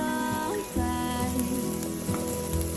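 Ginger frying in a pan on a propane stove sizzles steadily up close, with a faint background hum and a few brief clinks.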